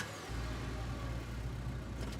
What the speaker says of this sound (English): You squeeze into Duke's tiny 2-seater truck, tucking your legs on either side of the gear shift.